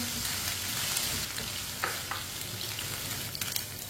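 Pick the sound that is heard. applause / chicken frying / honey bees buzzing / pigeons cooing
chicken frying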